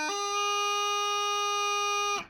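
A bagpipe practice chanter moving from D to high G: one steady, bright reedy tone held for about two seconds, then cut off cleanly, alone and close.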